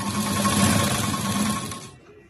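A sewing machine runs steadily, stitching cord piping for a blouse, a dense whirring buzz that holds for about two seconds before cutting off abruptly into quiet.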